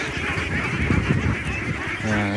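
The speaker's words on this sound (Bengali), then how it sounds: "অনেকগুলো হাঁস আছে এখানে, সাদা কালার কালো কালার" A flock of native breed ducks, white and black, quack and honk together on a large duck farm, close and continuous.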